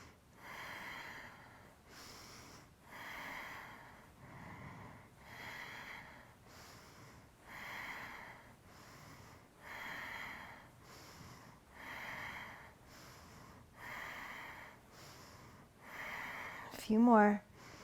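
Rhythmic, forceful breathing in a kundalini yoga flow: steady bursts of breath about once a second, close and moderately loud, repeating evenly before a brief louder sound at the end.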